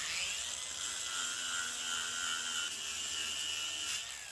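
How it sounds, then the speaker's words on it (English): Battery-powered angle grinder with a worn 40-grit flap disc resurfacing a part, a steady high whine with a grinding hiss held close and loud for several seconds, pitch sagging slightly near the end. "This is a heavily used 40 grit flapper disc on an angle grinder that has very little charge left in it."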